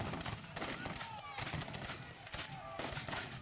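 Civil War reenactment rifle fire as Union infantry close in: repeated sharp musket reports at a distance, with a crowd and an announcer's voice underneath.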